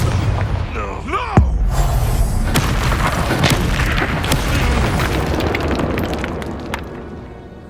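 Confringo spell blast in the Hogwarts Legacy video game: a loud booming explosion with sweeping magical effects over dense battle sound, rumbling on for several seconds.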